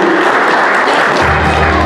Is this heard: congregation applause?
yes